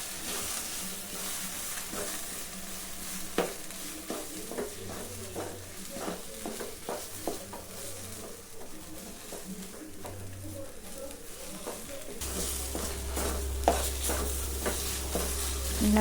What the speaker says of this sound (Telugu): ఇదంతా బాగా కలిసేటట్టు కలుపుకోవాలి